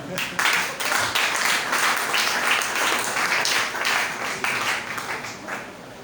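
Church congregation clapping and cheering to acclaim the Lord, a dense, steady wash of hand claps across the whole stretch with a voice or two mixed in, fading slightly at the end.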